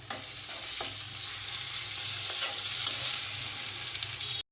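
Ground spice paste stirred in a hot frying pan for a bamboo taro dish, giving a loud, continuous close sizzle with soft scraping strokes, cutting off abruptly at the end.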